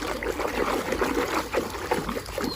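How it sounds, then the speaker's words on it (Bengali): Children's toys are rinsed and swished in water, with a steady splashing, trickling wash going on close by throughout. "এইবারে এইগুলো নিয়ে আমরা জলে ধুইব।"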